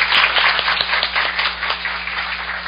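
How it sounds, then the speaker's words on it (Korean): An audience at a forum on industrial accident insurance applauding after worker testimony, a moderately large crowd clapping with some distinct individual claps showing through a steady, fairly close wash. "힘차게 박수 보내주세요"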